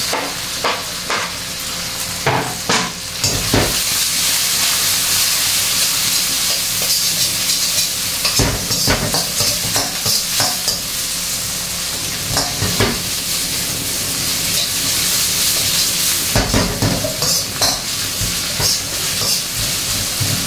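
Onions sautéing in hot oil for ginisang munggo, a loud continuous sizzle close up, with sharp scraping stirs striking at intervals throughout and no talking.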